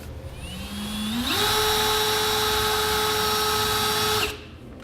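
A power drill bores a hole through the bed rail of a 2016 Ram 2500 pickup, winding up to a steady high whine for about three seconds before cutting off.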